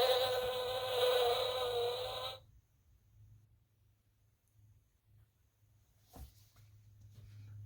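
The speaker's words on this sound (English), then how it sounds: "Find an animal that flies and goes buzz," A buzzing flying-insect effect from an Elmo's Noisy Farm button sound book, a loud harmonic electronic buzz for about two seconds, then near silence with a low hum and a faint click.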